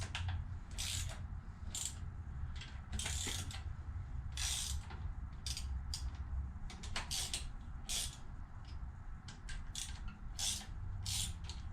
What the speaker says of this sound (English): I'll just keep moving along undoing these nuts. So I have my ratchet here.